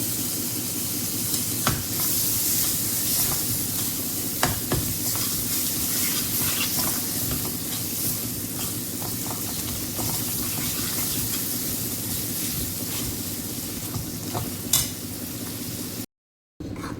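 Pav bhaji vegetables stirred in a frying pan, with a steady close sizzle and repeated scraping strokes of the spoon running throughout, a brief dropout near the end.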